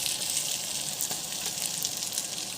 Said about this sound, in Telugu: దీన్ని రెండో వైపు కూడా కాల్చుకుందాం.